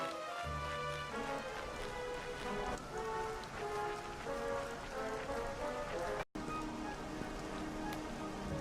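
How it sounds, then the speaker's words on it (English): Rain falls steadily in the Dragon Quest XI video game, a dense, continuous patter over faint game music tones, with one brief dropout partway through and no talking. "It would have to go and start raining, wouldn't it?"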